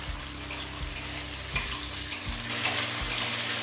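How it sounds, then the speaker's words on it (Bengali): Two thinly sliced medium tomatoes frying in a pan until soft, a steady close sizzle punctuated by several thumping, scraping stirs of the spatula at irregular intervals, with no speech. "এবার টমেটো নরম হয়ে আসা পর্যন্ত ভেজে নেব"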